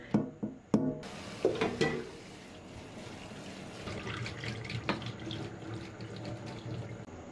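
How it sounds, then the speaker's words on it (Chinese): Radish being rinsed under cold tap water in a kitchen sink: a few knocks and clatters at first, then steady running water splashing with scattered bumps, close and moderately loud. "再用凉水冲洗萝卜"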